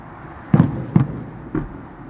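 Three distant fireworks booms over SeaWorld at night, dull low thuds spaced roughly half a second apart, the last slightly weaker, with no talking in between.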